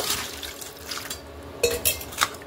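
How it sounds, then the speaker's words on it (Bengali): Two aubergines being washed by hand in water, with wet sloshing, rubbing and a few sharper splashes and knocks against a bowl, close and fairly quiet. "তো ভালো করে জল দিয়ে ধুয়ে নেব"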